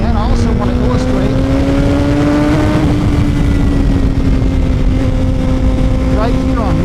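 2018 Suzuki GSX-R1000 sport bike engine pulling steadily under throttle while riding, a loud sustained tone climbing slightly then holding, wrapped in heavy wind rush, with a brief rider voice over it.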